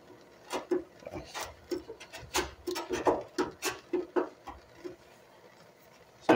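Irregular scraping strokes as roof mastic is worked off the floor pan of a 1965 Ford Mustang, close and fairly quiet, in short uneven bursts with brief pauses between strokes.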